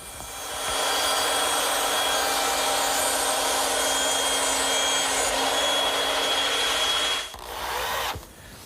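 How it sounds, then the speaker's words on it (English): A bandsaw trims the ends of wooden tenons for a shelf unit, a steady loud whining buzz of blade through wood running for about seven seconds before cutting off abruptly, with a short tail of motor hum after. "they're going to bump into one another unless I trim a little off at the bandsaw"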